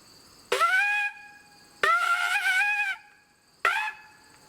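A forester's horn sounds the return call: two long blasts followed by a short one, bright and clear with a slight waver in pitch, alone against quiet.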